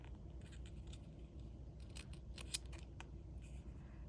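Small scissors snip paper into palm leaf points, a few faint close crisp clicks scattered over a quiet background hiss.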